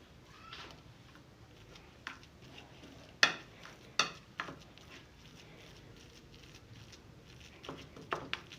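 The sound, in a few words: stirring red food colour into coconut laddu mixture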